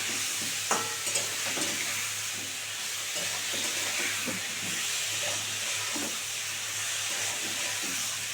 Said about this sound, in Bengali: দিয়ে আমি এবার এটা 2 মিনিট ধরে ভালো করে কষাবো, মশলাগুলো দিয়ে ভালো করে কষাতে হবে